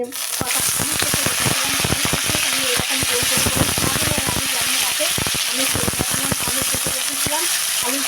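Potatoes fry in hot mustard oil in a wok, giving a loud, close, dense crackle of popping and spattering that runs continuously without a break.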